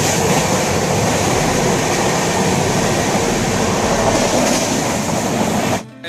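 A train on the line toward Agra gives a loud, steady rumble of wheels on track, with faint rail clatter running without a break, then stops abruptly near the end.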